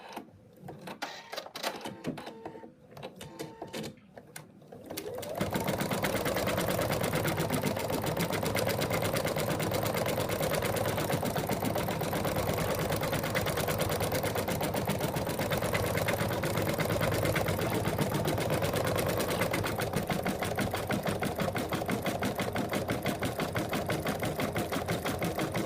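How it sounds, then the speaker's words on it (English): An embroidery sewing machine stitching a satin stitch for a cat paw print design, a rapid, continuous mechanical whir and clatter that starts after a few seconds of quiet handling noise and runs steady and close. "we're going back to the current stitch position again, and it's going to do the satin stitch"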